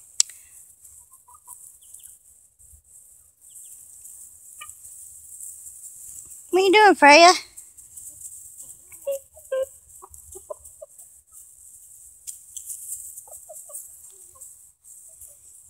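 Roosters on a backyard farm give a short burst of loud clucking and squawking in the middle, with scattered softer clucks after, over a constant high insect-like hiss; a person speaks briefly.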